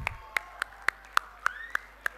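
Sparse, steady handclaps for the host of the FLL & FTC National Championship, about eight crisp claps at an even pace, fairly quiet and close, with no voices.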